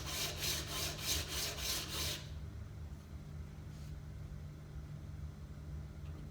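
A steel card scraper's edge is rubbed in quick back-and-forth strokes on a sharpening stone, about seven rhythmic rasping passes, then it stops and a low hum remains.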